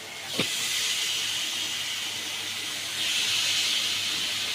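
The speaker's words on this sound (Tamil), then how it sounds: "இந்த ஸ்டேஜில் நம்ம சிக்கனை அள்ளி போடணும்." Chicken, washed with turmeric and salt, dropped into a pan of browned onions, a sudden hiss followed by a continuous steady sizzle that swells again toward the end, no talk.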